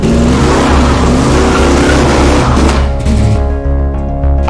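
A supercharged 1968 Dodge Charger engine revs hard and loud up close, a deep steady roar that eases off near the end, with no voices present.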